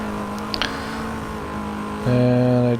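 Car engine in a driving video game on a track, a steady mid-pitched drone that jumps louder and richer near the end as the revs climb, with a couple of faint clicks early on.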